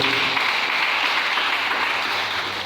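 A worshipping congregation at a French-language church service claps for the Lord in sustained, even applause, many hands blending into one broad roar.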